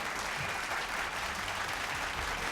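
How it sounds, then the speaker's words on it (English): Steady applause from a large crowd at an awards ceremony, a dense, even wash of clapping that holds at the same level from start to finish. "a huge round of applause for our presenters here."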